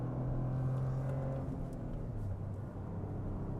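A Toyota GR Corolla drives a canyon road, its engine a low, steady drone heard from inside the car with a slight shift in pitch partway through; no voices.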